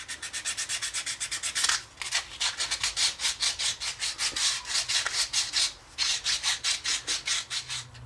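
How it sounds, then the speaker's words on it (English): Steady back-and-forth rasping of sandpaper on a wooden coffee scoop, rhythmic hand strokes repeating quickly with two brief pauses, close and fairly loud. "we're just gonna give this a good sanding all over"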